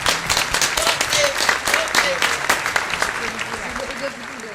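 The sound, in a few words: audience applause at stand-up comedy show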